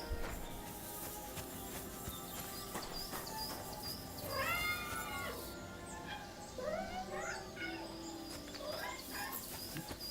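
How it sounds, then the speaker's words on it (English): Cats meowing in the video game Kingdom Come: Deliverance 2, a couple of short rising meows at moderate distance over a steady outdoor ambience of birds and background noise. "Is that meowing?"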